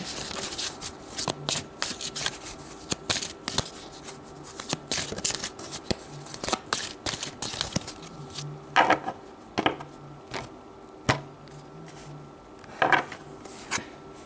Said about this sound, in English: So let's pull some advice cards here.